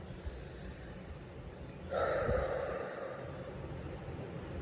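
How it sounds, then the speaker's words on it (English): One deep breath is drawn in audibly and softly, then released slowly, close to the ear against a quiet background with no talking. "Take a deep breath with me"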